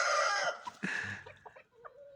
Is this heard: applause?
no